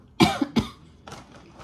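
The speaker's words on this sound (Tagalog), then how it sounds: "ayan na naman yung ubo ko" A couple of sharp, close coughs in quick succession, followed by softer, breathy hacks trailing off in a quiet room.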